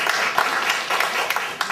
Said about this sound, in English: another round of applause for her for that